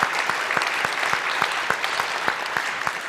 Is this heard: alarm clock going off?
no